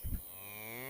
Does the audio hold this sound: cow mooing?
yes